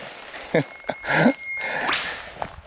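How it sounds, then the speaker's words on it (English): An eastern whipbird whistles a long drawn-out note that ends in a sharp whip-crack, with other short calls and rustles around it in open bush at Mt Glorious, Australia. "we're listening to the whip birds"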